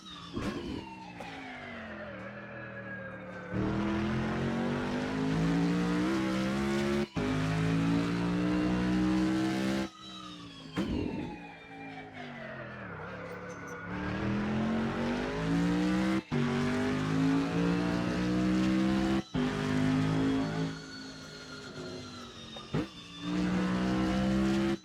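Race cars in a racing video game on the Thermalito track, their engines revving hard and rising in pitch through repeated gear changes with brief shift gaps, loud and continuous with occasional tire squeal.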